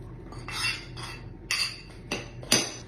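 Flour and melted butter for a dessert crust get stirred in a bowl, with several scraping strokes and a few sharp clinks of a utensil against the dish, fairly quiet and close.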